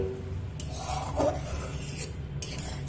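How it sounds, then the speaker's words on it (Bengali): Grated carrot in sugar syrup is stirred over a high flame for laddu, a close, continuous rasping scrape of a spatula against the pan with faint bubbling underneath and no voices. "এইভাবে ধৈর্য ধরে কিছু সময় ধরে হাই ফ্লেমে নেড়ে নেড়ে করে নিতে হবে"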